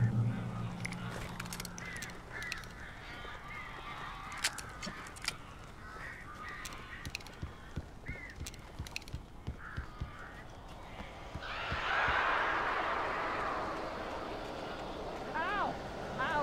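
Crows caw in Alan Wake, harsh repeated calls scattered over a busy ambience of clopping and thumps, with a voice speaking, then a louder swell of noise toward the end.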